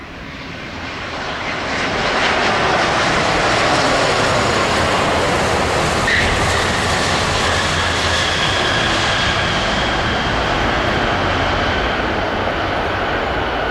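A Vietnam Airlines Airbus A350-900 coming in to land on runway 07L: a loud, steady jet roar swells over the first seconds and holds close by overhead, with a faint rumble underneath.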